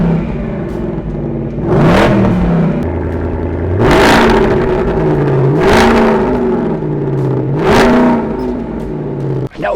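A Ford Mustang fitted with a Steeda X-pipe exhaust revs repeatedly, with four strong throttle blips rising and falling over a rumbling idle, loud and close.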